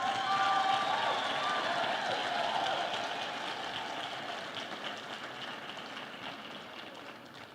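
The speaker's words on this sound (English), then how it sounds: "May we just give them a round of applause" Sustained applause fills a graduation ceremony hall, a steady dense patter of many hands clapping at a distance, gradually thinning and quieting over several seconds with no voice over it.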